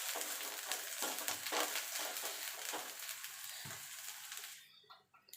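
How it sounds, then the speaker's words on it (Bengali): Vegetable paste sautéing in a hot pan, a continuous close sizzle with scraping stir strokes that fades out near the end. "এবার এটাকে মিনিট 2-3 এইভাবে সাঁতলে নেব।"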